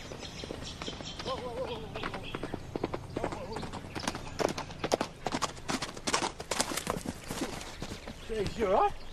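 Horse hooves clip-clop at a steady walk on a stable floor, close and fairly loud, with people talking over them and a brief whinny-like call near the end.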